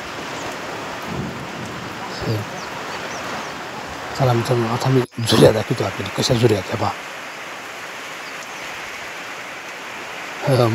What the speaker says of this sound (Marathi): अचानक अशा पावसानं सुरुवात केली ढगफुटी